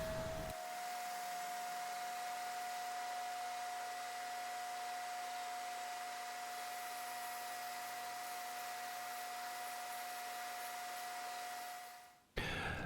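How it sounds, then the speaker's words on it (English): A disc sander and belt sander combo smoothing a wooden pike swimbait, a steady loud whirring hum with abrasive hiss, running continuously before winding down at the end, no talking. "I'm just going to use my disc sander slash belt sander combo to do that"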